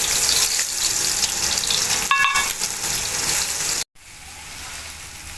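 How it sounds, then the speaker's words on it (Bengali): Chopped onion dropped into hot oil in a kadai for a fish curry, a steady loud sizzle that breaks off briefly and then settles into a quieter frying hiss. "এবার দেবো পেঁয়াজ কুচি"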